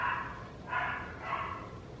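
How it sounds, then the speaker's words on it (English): A dog barks three times at a steady pace, muffled and somewhat distant. "it wouldn't be a video if Maggie wasn't barking"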